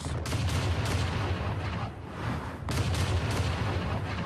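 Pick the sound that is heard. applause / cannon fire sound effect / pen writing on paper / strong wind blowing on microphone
cannon fire sound effect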